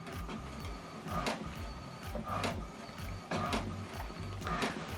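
A printer runs an alignment page, producing quiet repeated mechanical clacks and whirring bursts as the print head shuttles back and forth at an uneven rhythm.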